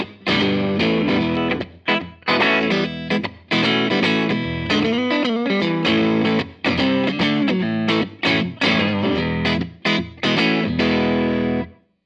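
Electric guitar plays through a Tone King amp with ultralinear-wired power tubes, giving a loud, full, distorted tone in choppy strummed chords and short bursts separated by brief pauses, close and with no talk.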